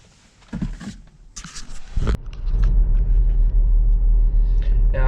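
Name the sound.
BMW X1 SUV being driven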